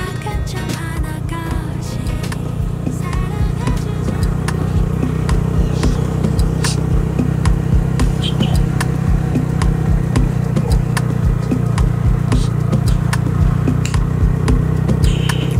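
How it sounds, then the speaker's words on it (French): Several motorcycles ride calmly through hilly countryside in North Kivu, a steady mid-pitched engine drone holding throughout with a constant low hum and no sharp revving. "Les motards qui roulent calmement et paisiblement."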